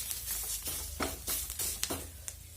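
A paste of onion and spices roasting in a pan with very little oil for a Maharashtrian katachi amti, heard as a soft sizzle with repeated stirring scrapes close by.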